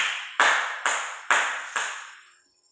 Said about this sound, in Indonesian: mari kita berikan aplaus kepada kelompok Adrianus